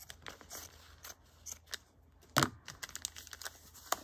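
Scissors snip through fabric while a needle book is made, a few quiet, close cuts scattered among soft rustling and handling of cloth, with one sharper, louder snip standing out.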